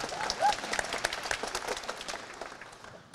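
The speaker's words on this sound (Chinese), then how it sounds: "这时候是不是来点掌声" An audience at a Suzuki Swift car launch event bursts into applause, a dense spread of many hands clapping at moderate distance that holds steady and then tapers off near the end.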